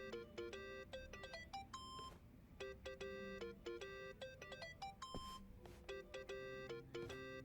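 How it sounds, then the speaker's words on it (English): A phone rings in the Yakuza: Like A Dragon video game, a repeating electronic melody of bright beeping tones in short patterned bursts, fairly loud and alone. "Think that's your phone, man."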